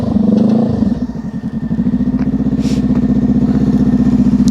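A motorcycle engine runs loud and close during slow-speed riding practice, throbbing with a steady pulsing beat after a brief rise in throttle at the start. No one speaks.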